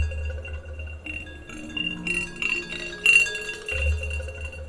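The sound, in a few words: synthesized sound of Tic Tacs bouncing on glass, Omnisphere 2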